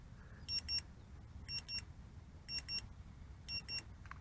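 Electronic low-battery warning beeps from a Potensic Dreamer 4K drone sound in quick pairs, four double-beeps evenly spaced about a second apart, sharp and clear over a low background hum.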